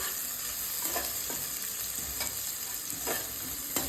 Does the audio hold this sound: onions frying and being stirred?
yes